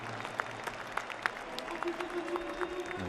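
Football supporters at a Lyon stadium clap in a broad, distant crowd wash, with scattered sharper claps rising above the steady murmur of the stands.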